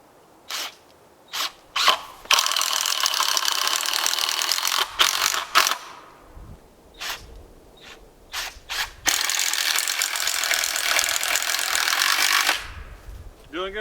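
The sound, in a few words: screwing in screws with a ratchet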